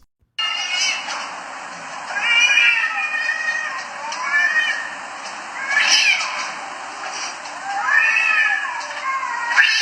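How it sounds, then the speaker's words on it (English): Two cats in a territorial fight yowl, growl and hiss at each other in drawn-out, rising and falling cries, loud and close, coming in repeated bursts with no talking. "two cats were having a turf war and were hissing at each other"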